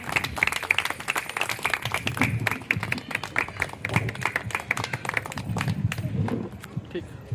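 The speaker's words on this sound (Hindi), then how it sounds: "स्वागत में ताली की बौछार होनी चाहिए।" An audience claps in welcome for a guest at a reception in Raipur, the applause arriving as dense, uneven bursts of hand claps across a lively room, mixed with background voices and chatter.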